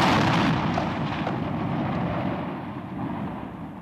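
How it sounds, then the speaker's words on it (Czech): Fireworks exploding in a dense, continuous barrage, heard as a loud, heavy rumble of overlapping booms that slowly fades over a few seconds. "Ohňostroj!"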